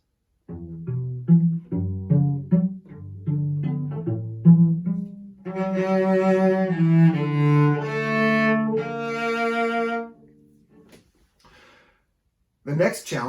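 A bowed cello plays a passage from a piece, starting with detached low notes and moving into a sustained, rich phrase that rings out. It ends in silence before a brief noise.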